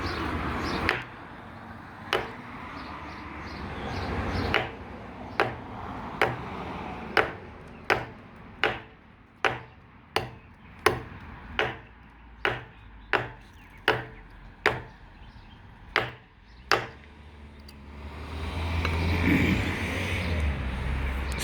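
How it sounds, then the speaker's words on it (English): A custom knife hacks into a chunk of wood with about seventeen sharp, evenly paced chops, each a crisp thwack, fairly close, ending in a rustling shuffle. "it made pretty quick work of chopping a pretty decent sized chunk out of that wood"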